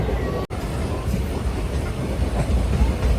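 A crowded local passenger train near Thrissur rumbles along the rails with a steady low roar and faint rhythmic wheel clatter, heard from inside the carriage, with a brief dropout near the start.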